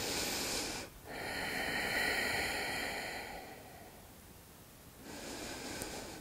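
A slow, deep nasal inhale during a dynamic heart-opening yoga flow, heard close and clear, then a long steady exhale with a softer breath returning at the end. No one speaks.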